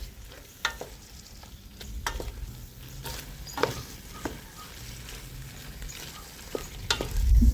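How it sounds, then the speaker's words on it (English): Flour being stirred into a roux for pumpkin stew, a spoon scraping and tapping against the pan in irregular strokes, with a soft sizzle underneath and no talking. "It's time to put the flour in and make a roux. Stir. Incorporate."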